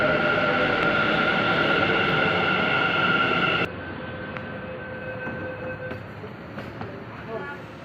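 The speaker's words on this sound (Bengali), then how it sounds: "মেট্রো করে বাড়ি ফিরছি" Inside a moving metro train: a steady rumble with a high whine, then the sound abruptly drops to a quieter rolling hum with faint clicks.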